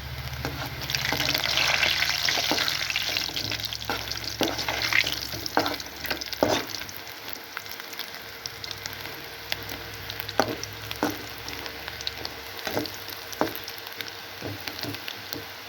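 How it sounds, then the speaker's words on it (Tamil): Shrimp frying in a pan over low heat: a continuous crackling sizzle that stays fairly faint, with scattered clinks and scraping from stirring and no voices. "லோவில் சிம்மில் வச்சுக்கிட்டு அடுத்த லோவாக கொஞ்சம் கொஞ்சமாக போட்டு பொரிப்போம்"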